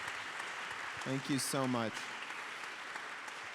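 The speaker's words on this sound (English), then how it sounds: "let's give these folks a round of applause, please" A live audience applauds a panel at an event on crisis pregnancy, foster care and adoption; the clapping is a steady, moderate wash that continues under a brief spoken thanks.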